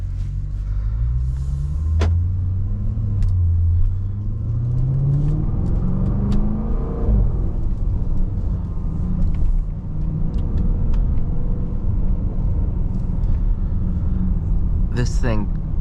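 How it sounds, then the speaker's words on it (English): A 2023 Jaguar F-Pace SVR's V8 in sport mode with the sport exhaust revs and accelerates, a deep rising engine drone and exhaust rumble heard from inside the cabin, with a voice talking over it. "this is one of the most aggressive V8s I have ever heard"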